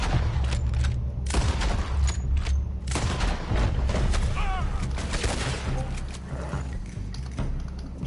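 Shotgun blasts and gunfire in Red Dead Redemption 2, several sharp bangs scattered through a busy mix of game noise and mechanical clatter, loud and close, with a voice talking over parts of it.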